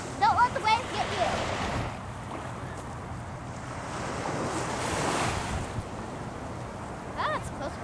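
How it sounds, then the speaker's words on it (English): Ocean surf rolls and washes at a Sea World sea lion show area, with gusty wind buffeting the microphone; a surge swells midway, and faint voices and squeaks sit in the background. "Don't let the waves get you."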